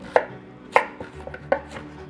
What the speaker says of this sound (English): Now we're gonna go ahead and we're gonna slice this guy up